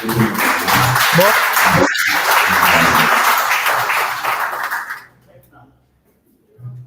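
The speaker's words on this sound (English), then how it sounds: "let's give him a round of applause" Applause for the mayor of Uvalde at a round table, loud clapping for about five seconds that cuts off abruptly into near silence.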